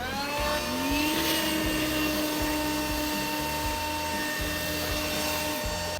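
A cordless leaf blower runs in turbo mode with a loud, steady, high-pitched motor whine and rushing air that holds constant for about six seconds, close by and with no talking.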